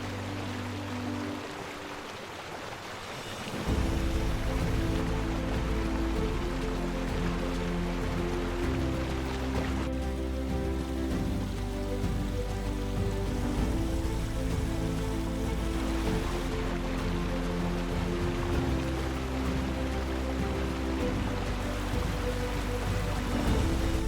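A waterfall at a trout fishing spot on a wild stream, a steady rushing roar of falling water that swells after the first few seconds and stays constant, with no voices.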